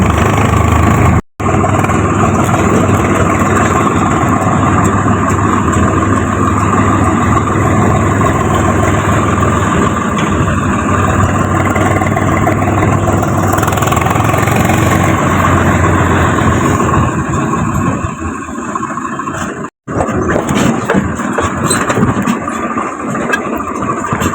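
A tractor engine runs close by in a loud, continuous low drone that breaks off briefly twice, with no talk.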